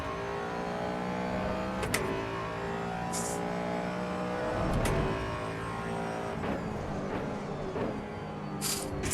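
Race car engine in the Assetto Corsa Evo video game, driven on cold tyres, holds a continuous loud droning note that rises and falls as it revs, with brief bursts of hiss and clunks from gear changes and no speech.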